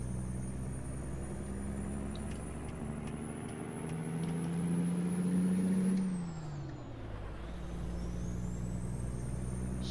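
A truck in American Truck Simulator idles and rumbles in rainy traffic, its engine note rising and then falling away as a sharp air-brake hiss releases, with a faint high whine above.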